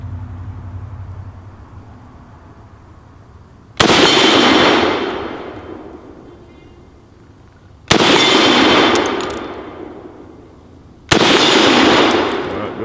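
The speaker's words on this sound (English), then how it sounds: "a few more shots with it, and I'll shoot it like a regular human being this time" Three loud, close gunshots fired at a red steel target plate outdoors, spaced several seconds apart. Each sharp crack rolls into a long echoing decay before the next shot.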